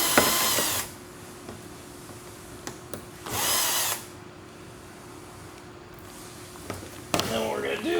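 A power drill spinning out Torx fasteners from the lower valance of an Audi A-series car during an oil change: three short, loud whirring bursts separated by quiet gaps with small clicks, with a person talking between bursts.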